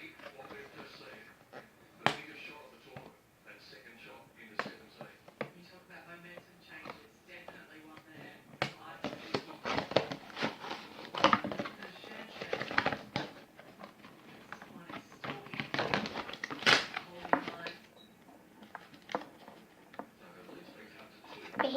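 Scissors cutting through a Barbie doll's plastic packaging, starting at the feet, giving quiet snips, crinkles and ticking clicks that grow busier midway, with soft talk now and then.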